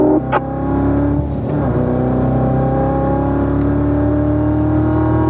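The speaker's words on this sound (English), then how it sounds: "Now look down the straight and accelerate. Hard acceleration down the straight." Steady engine drone from a car accelerating hard down the straight on the Spring Mountain track, harmonics climbing slowly and a brief tick early on; loud, close and continuous, with no voices.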